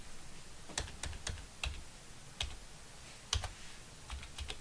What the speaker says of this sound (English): you type in the purchase order that you're going to be recording receiving for